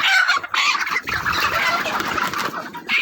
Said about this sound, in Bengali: আরেকটা মুরগি দেখা দিচ্ছে আপনাদেরকে